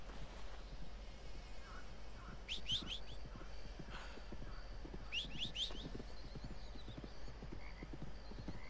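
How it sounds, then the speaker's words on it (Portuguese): Horse in Red Dead Redemption 2 being called over, hooves clip-clopping at a steady pace amid quiet night ambience with frogs and insects, faint and moderately distant. "O que temos a fazer é chamar o cavalinho que está ali atrás."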